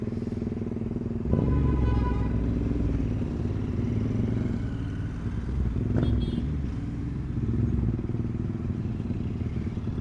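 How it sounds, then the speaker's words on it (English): Motorcycle fitted with an 850cc big bore kit and full-system exhaust, engine roaring steadily up close with a sharp burst near the start and another crackle around six seconds, popping on downshifts. "Each downshift you can hear pud pud."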